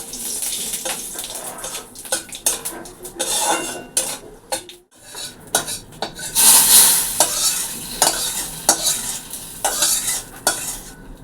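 Lentils tempered in hot oil in a pan, with steady sizzling and frying under repeated scraping and clinking stirs of a utensil against the pan, close and fairly loud, briefly dropping quiet midway before the sizzle resumes strongly.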